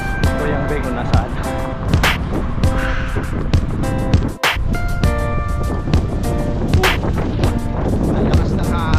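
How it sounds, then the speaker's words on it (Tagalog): Strong wind roars and buffets the microphone without letting up, while people talk over the noise. "Ang lakas ng hangin."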